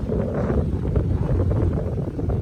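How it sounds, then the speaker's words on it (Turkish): Strong wind at sea on a sailboat in a strait buffets the microphone in a constant low roar, rushing and gusting without pause, with no voices. "Hem rüzgarımız hem de dalgamız gayet bol."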